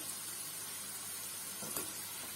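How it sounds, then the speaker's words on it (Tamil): Pumpkin pieces frying for Pumpkin 65 give a steady, faint sizzle that stays even and continuous from start to end. "பாருங்க நல்லா வெந்துட்டு இருக்குது."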